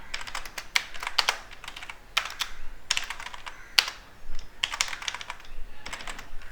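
Code being typed on a computer keyboard: close, rapid bursts of key clicks in uneven clusters with short pauses between them, and no talking.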